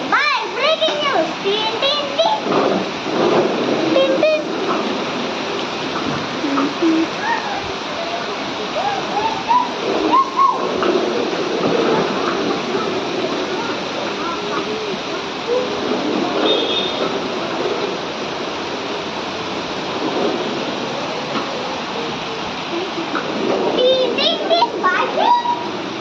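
Heavy rain pours steadily during a storm in Hyderabad, a dense broadband hiss that holds for the whole stretch, with children's voices and chatter rising and fading in the background.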